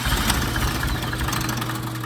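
Mitsubishi 4G64 DOHC engine running rough on only a couple of cylinders, a loud, uneven low rumble with a lumpy, shaky idle throughout.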